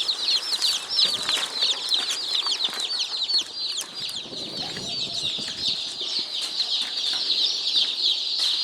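Many baby chicks on a farm chirp in a dense, continuous chorus of high, rapid peeps, close and steady throughout, with light scuffling beneath.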